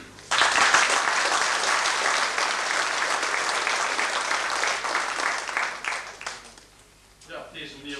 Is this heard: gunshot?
no